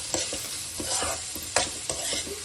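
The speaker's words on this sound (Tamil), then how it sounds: "ஆனியனும் கார்லிக்கு சேர்த்து நல்லா ஃப்ரை பண்ண ஆரம்பிச்சிடலாம்" Onion and garlic sizzle in hot oil while a utensil stirs and scrapes the pan in irregular strokes, close up with no voices.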